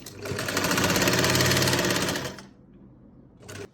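A sewing machine stitches a sleeve seam in one fast, loud whirring run of about two seconds, then stops, with a short final burst of stitching.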